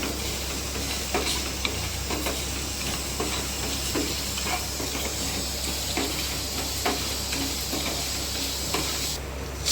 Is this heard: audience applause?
no